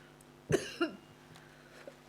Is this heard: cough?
yes